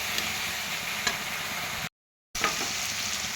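Ginger garlic paste sizzles and fries steadily in a hot pan for a cauliflower curry, a continuous close crackle with a brief silent gap partway through.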